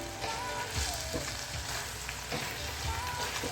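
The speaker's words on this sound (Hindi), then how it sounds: "ये 3 मिनट के लिए हमने ऑयल डालने के बाद अच्छे से कीमे को फ्राई कर लिया है" Minced meat keema frying in cooking oil in a pan, a continuous crackling sizzle with occasional stirring scrapes, close and steady with no talking.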